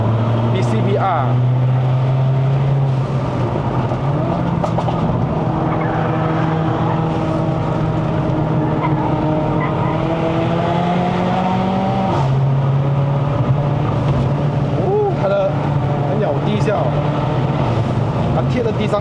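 A stage 2 C117 Mercedes-AMG CLA45 fitted with a hybrid turbo climbs the Genting uphill road in Malaysia, its engine droning loud and steady throughout with rising gear pulls and shift dips, heard from inside the cabin under a voice.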